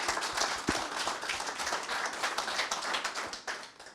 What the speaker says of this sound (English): So I would like to have another applause for Pink Web Applications.